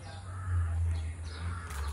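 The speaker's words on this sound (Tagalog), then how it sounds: "May uwak din." A crow at a garden resort in Lucban, Quezon, giving faint calls over a steady low hum, with a couple of short caws standing out from the outdoor background.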